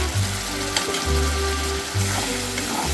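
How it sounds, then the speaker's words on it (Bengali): Tomato puree frying in a pan for a Bengali-style chana masala, a soft continuous sizzle with occasional stirring, fairly quiet under a low steady electrical hum. "এবারে এর মধ্যে আমি দিয়ে দিচ্ছি টমেটো পিউরি মিক্সিতে আমি পেস্ট করে রেখেছিলাম"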